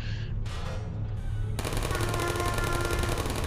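Sentry turret gunfire in the Portal video game, a rapid, continuous mechanical rattle of shots that swells into a dense, loud burst midway through and keeps going, with no voices.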